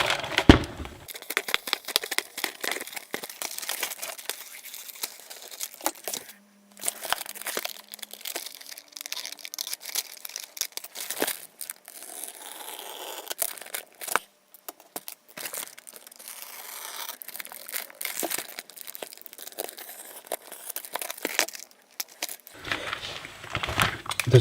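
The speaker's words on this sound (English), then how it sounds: "So I'm just going to cut a few millimeters" A very sharp fresh blade slices through an EPP foam wing in short, crisp crunching and crackling strokes, repeated in bursts with brief pauses, close up.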